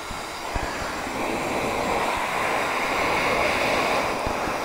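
A heat gun warms the adhesive on a GoPro chin mount with a steady close hiss and whoosh of blowing air, while a few faint knocks sound beneath it.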